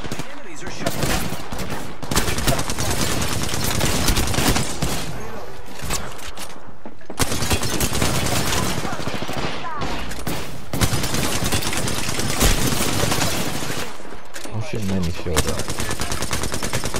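Rapid automatic gunfire from the video game Apex Legends rattles in dense, loud bursts with brief gaps between volleys, close and continuous, over a bed of in-game effects.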